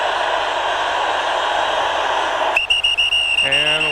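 During the 2001 AFC Championship between the Patriots and the Steelers, a stadium crowd roars steadily before a sharp, piercing referee whistle cuts in near the end and holds over the noise.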